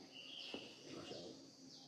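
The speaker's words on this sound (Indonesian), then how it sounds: "Anda masih dengar suara burung loh ya." Birds sing and chirp outdoors near a mosque, with short, thin calls heard at a moderate distance against a soft background murmur and no talking.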